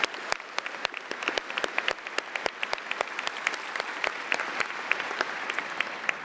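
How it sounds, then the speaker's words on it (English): Audience applause at the Penfield High School class of 2025 commencement, a mid-level bed of clapping with sharp individual claps standing out nearby, continuing steadily for several seconds. "You can join me in giving them a round of applause."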